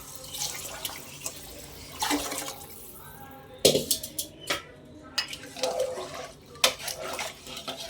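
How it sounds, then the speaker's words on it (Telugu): Water splashes and pours into a pot of vegetable biryani in several bursts, with dripping and a few clanks of metal between pours. "ఈ కప్తోనే వాటర్ యాడ్ చేస్తున్నాను"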